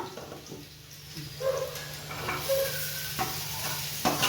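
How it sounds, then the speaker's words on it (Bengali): Paneer cooks in a pan with a soft sizzle while a utensil stirs and scrapes it in irregular strokes, plus occasional light clinks against the pan, all fairly close. "এই যে পনির বানাচ্ছি"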